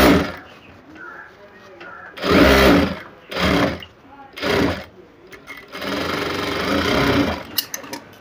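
A sewing machine stitches a blouse in close, loud bursts: three short runs of whirring needle action, then one longer continuous stretch, with quiet pauses between them.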